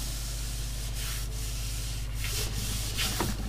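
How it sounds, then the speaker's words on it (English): A hand rubbing gently over wallpaper laid down for a craft background, a continuous soft papery swishing and brushing that stays steady and close, with a faint low hum beneath and no speech. "So just put that there, just rub it gently, don't go all the way, then rub that there like that"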